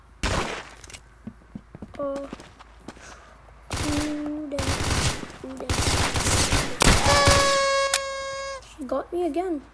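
Bursts of rapid automatic gunfire in the Roblox Arsenal shooting game, several loud volleys with electronic tones, under a player's excited talking.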